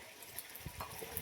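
Drinking water runs from a tap into a container, a faint, soft gushing wash with small splashes in the background.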